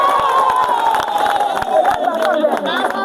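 A crowd of children at a school gathering in Okeho clapping and cheering, with dense hand claps, shouts and whoops over a steady bed of excited voices and a thin whistle-like tone throughout.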